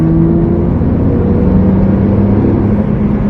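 A car engine being broken in is revved with a steady, loud mechanical drone and whirring tone held evenly across the short stretch, with no talking.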